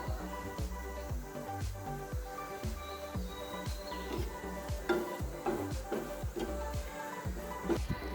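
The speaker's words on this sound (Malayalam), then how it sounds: "നമുക്കിതിലേക്ക് കുറച്ച് കറിവേപ്പില കൂടെ ഇട്ട് കൊടുക്കാം." Grated coconut and curry leaves fry in a pan for a sadya-style potato masala. A spatula scrapes and taps the pan in a quick, steady rhythm, with ringing metallic tones over a soft, fairly quiet sizzle.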